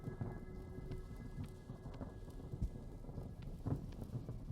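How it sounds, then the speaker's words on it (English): Steady rain with low rumbling thunder in the video game Vintage Story, a continuous wash of rainfall with a faint distant rumble and a few soft taps. "Lightning in this game is so much scarier than lightning IRL."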